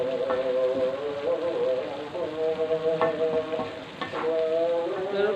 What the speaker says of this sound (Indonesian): Sambil diaduk ya Bunda